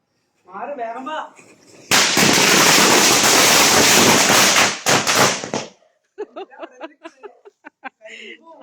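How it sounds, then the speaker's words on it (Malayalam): A firecracker is set off live during a political victory celebration in Thrissur, giving a loud, dense crackling burst that lasts several seconds before cutting off, with voices and laughter before and after it. "ലൈവായിട്ട് ഒരു പടക്കം പൊട്ടിച്ച് ആഘോഷിക്കാൻ"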